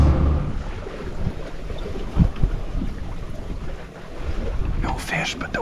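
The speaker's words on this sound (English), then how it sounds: "No fish, but the wind's back." Wind buffets the microphone aboard a sailboat beating upwind, a steady rough rush with gusty swells and water sloshing beneath it.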